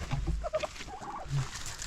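Turkeys on an off-grid homestead in autumn let out brief, close gobbles and clucks in two quick bursts, with no talking.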